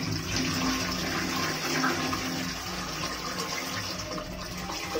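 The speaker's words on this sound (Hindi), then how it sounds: "तो फ्लश भी हो रहा है" A Geberit concealed-cistern toilet flushes, water rushing and gushing into the bowl in a sustained, fairly close wash that eases slightly toward the end, with no speech.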